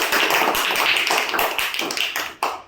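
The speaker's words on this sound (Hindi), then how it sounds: "ताली बजाओ।" A group of schoolchildren clapping together in a classroom during a school inspection, a steady burst of close, dense hand claps that runs for a few seconds, then breaks off abruptly near the end.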